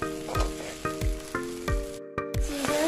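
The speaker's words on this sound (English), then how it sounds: "To let our green seasoning fry up in the oil." Green seasoning sizzles steadily in hot oil for a Guyanese fish curry, close up, while a spoon stirs in regular scraping strokes roughly every half second.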